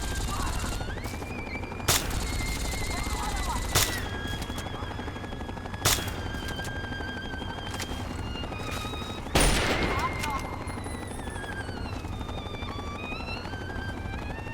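BB gun shots in Fallout 3 ring out as sharp, evenly spaced single cracks roughly every two seconds over a steady droning game ambience, with occasional voices.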